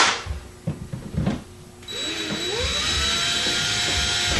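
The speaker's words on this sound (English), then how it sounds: "I'm going to start a little pilot hole through here" A power drill bores a pilot hole into a C6 Corvette fender flare, starting with a few short bursts and then settling into a steady, close, whining run.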